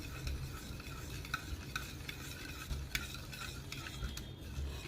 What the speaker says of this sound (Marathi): चांगलं मिक्स करून घेऊया बरं